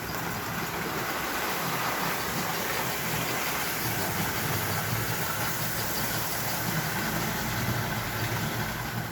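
An American Flyer model train hauls six cars down the track at a slow pace, giving off a steady dense whirring rumble mixed with broad hiss that stays even for the whole stretch, close and constant.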